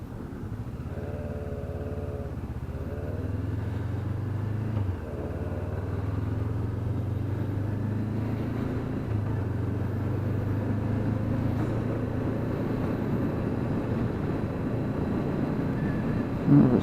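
Honda CBR650F, CBR500R or Yamaha R3 sport motorcycle pulling away in first gear, a steady engine drone that rises slightly in pitch over the ride, with constant road and wind noise and no talk.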